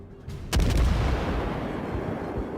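A cruiser fires a salvo of high-explosive shells in World of Warships: a sudden loud boom, followed by a rumbling, fading roar that carries on under the remaining seconds.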